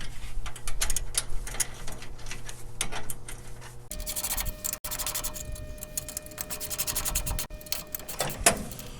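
Steady mechanical scraping and ratcheting as a dual wheel swing-back trailer jack is tightened down, continuous close rubbing clicks that shift in tone midway, with no talking.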